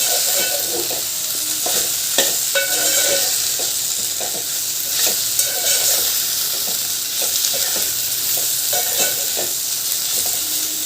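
Okra and tomato fry and get stirred in hot oil. A loud, continuous close-up sizzle runs throughout, with scraping stir sounds rising every so often.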